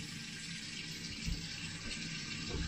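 A kitchen tap runs steadily in a constant hiss while peeled potatoes are rinsed under it, with faint handling splashes and no talk.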